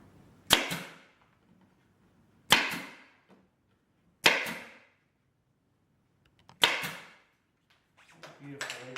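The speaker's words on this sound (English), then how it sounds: "We'll just pull that tight, put in a staple, and we'll do the same with the other side." A staple gun fires staples through fabric pulled tight over an upholstered bed headboard, four sharp loud single snaps spaced about two seconds apart, followed by faint handling noise.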